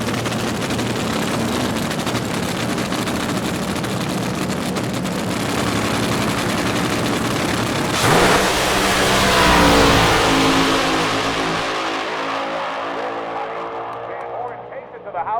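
An AA fuel dragster roars down the strip at a nighttime drag racing event, a loud, harsh, sustained engine blast that peaks midway and then fades as the car pulls away.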